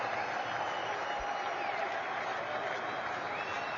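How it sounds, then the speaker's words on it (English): A cricket crowd applauds a debut century by a Pakistan batsman against Australia, sustained dense clapping from a large stadium audience, steady and fairly loud throughout. "They all applaud. They all stand up, admire the debutant."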